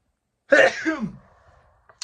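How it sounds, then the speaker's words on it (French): One loud, close sneeze erupts with a sharp burst and trailing breathy tail, then quiet with a faint click. "Attention, je vais éternuer."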